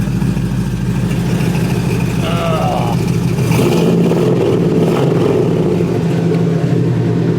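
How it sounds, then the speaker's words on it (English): A Chevrolet S10 pickup with an LS engine revs while driving, a loud, steady low engine rumble that rises in pitch midway, heard up close from inside. "I love the way this car sounds."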